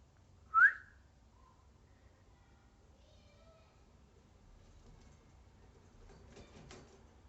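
A person gives one short, rising whistle to a cockatiel in a quiet indoor room. Afterwards only faint rustles and soft background sounds remain.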